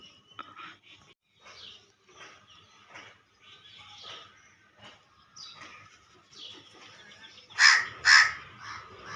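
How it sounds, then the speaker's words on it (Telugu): Crows caw from a rooftop garden near farm fields, two loud close calls standing out near the end over a quieter stretch of faint distant calls and chirps. "ఎర్లీ మార్నింగ్ వచ్చేవి కాకులు మాత్రం చాలా ఫాస్ట్గా వస్తాయి"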